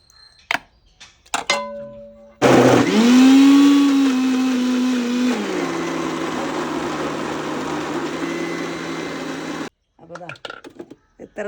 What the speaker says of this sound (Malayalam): അപ്പൊ അത് മിക്സിയിൽ അടിച്ചെടുക്കുന്നത് കാണിക്കാം